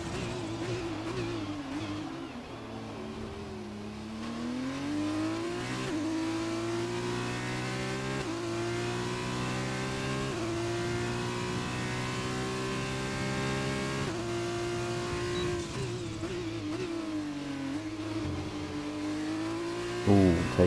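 An F2 race car engine screams through a fast lap in a racing game at Bahrain or China, a continuous high-revving whine rising through gears with quick downshifts and brief dips into corners, no voices.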